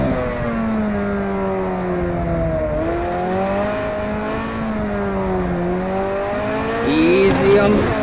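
Ferrari 288 GTO engine in a racing video game, a steady sustained drone with engine pitch rising and falling through gear changes and a louder rev near the end, with someone talking over it.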